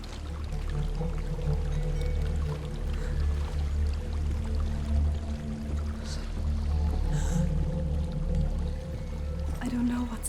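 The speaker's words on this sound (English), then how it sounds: "There's a waterfall." A waterfall in the video game Hellblade: Senua's Sacrifice gives a steady, broad rush of falling water that runs through the whole stretch, with low droning tones and voices underneath.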